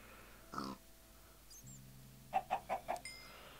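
Chickens in the Minecraft 1.4.2 video game give a quick run of four short, clipped clucks after a brief earlier squawk, faint against a quiet background.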